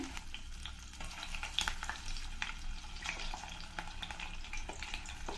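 Radish pakoda batter dropped into hot oil, giving a steady soft sizzle and crackle of frying with small bubbling pops throughout, fairly quiet and close, with no voices.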